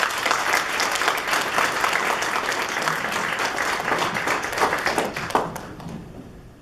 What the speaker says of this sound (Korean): 이렇게 귀한 시간을 내주신 우리 목사님을 온 마음으로 박수로 환영해 주시기 바랍니다.